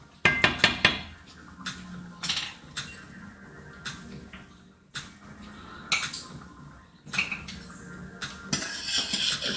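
Butternut squash pieces tossed in a bowl, with repeated clinks and scrapes of a utensil against the dish coming in irregular bursts, close and fairly loud.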